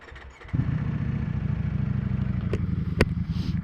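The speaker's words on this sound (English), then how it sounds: "my bike's sounding thumpy today" A Ducati Panigale V4S motorcycle engine catches after a half-second and settles into a steady, loud, thumpy idle rumble, close up with no talk.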